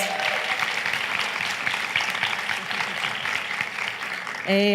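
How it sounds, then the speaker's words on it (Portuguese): An audience of teachers at an educators' gathering in Rio applauds in a steady, dense ovation that continues throughout, ending with a short tonal sound at the close. "Palmas para vocês"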